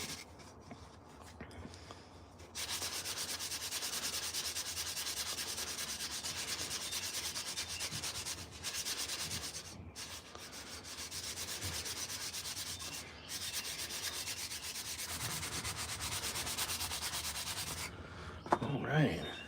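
Steady, continuous sanding of a hand-carved wooden spoon, a rough rasping scrub that runs for a long stretch with brief pauses, close and fairly quiet.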